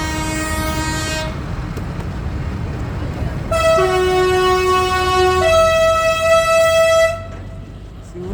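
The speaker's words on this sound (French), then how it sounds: "Si vous voulez un klaxon comme ça," A loud, sustained truck air horn blasts twice in long harmonic tones at a farmers' protest at Les Invalides in Paris, the second chord richer and longer, over a steady engine rumble.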